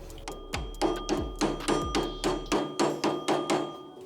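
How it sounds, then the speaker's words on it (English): A hammer taps metal repeatedly in a steady rhythm, bumping a part into place during a VW Beetle transmission swap, about a dozen sharp ringing strikes, close and clear with no talking. "you might want to just bump it on there with a hammer"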